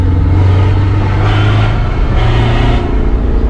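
A Chevrolet S10 pickup with an MWM diesel engine and straight-through exhaust revving hard nearby, loud and throaty, with two rising surges in quick succession and no talk over it.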